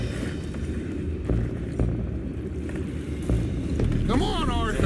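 A ship's anchor mechanism in Red Dead Redemption 2 clanks and ratchets in scattered metallic clicks over a steady low engine rumble, with a brief squealing sound near the end.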